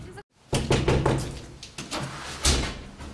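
Someone knocks repeatedly on an apartment door, giving a series of dull, close thumps in an uneven rhythm, with some voice audible under the knocking.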